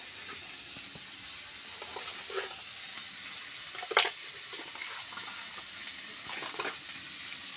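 Spices tempering in hot oil in a home kitchen give a steady, fairly soft crackling sizzle, with a few sharper pops and one louder burst of spitting partway through, and no voices.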